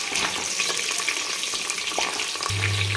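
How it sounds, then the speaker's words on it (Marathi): Green chillies fry in hot oil with a dense, steady sizzle that crackles continuously, close and fairly loud throughout. "ही हिरवी मिरची टाकायची आहे त्याला आपण तेलावर चांगलं परतून घ्यायचं"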